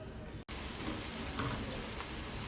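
Garlic fries in a pan with a faint, steady crackling sizzle like light rain, broken once by a short dropout early on.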